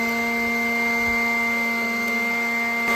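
An 18-volt Ryobi battery leaf blower runs at a constant pitch, a steady close whine with a tonal hum, unbroken and with no talking.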